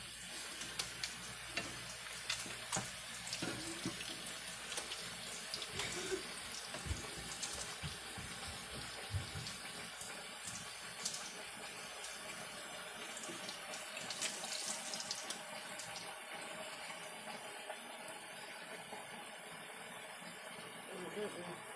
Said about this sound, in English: But yeah, fill that up with water.